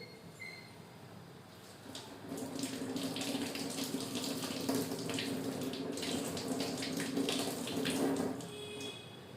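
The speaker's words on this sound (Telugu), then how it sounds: "మళ్ళీ ఇప్పుడు కాల్చిన తర్వాత కడుక్కుంటున్నాను" Roasted green chillies are rinsed under a running kitchen tap. The water rushes steadily and close by, with splashes swelling after the first couple of seconds and then tapering slightly near the end.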